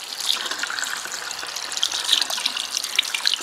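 A tap runs continuously as hands are rinsed during a clinical handwashing routine, giving a close, steady splashing hiss with small irregular spatters.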